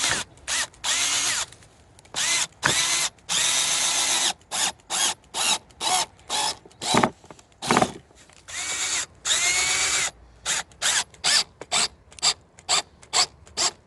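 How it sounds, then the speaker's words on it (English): A power drill drives screws into a Christmas wreath repeatedly in short bursts, whirring on and off in a stop-start rhythm with brief pauses between each pull of the trigger. "That's where a really good drill works."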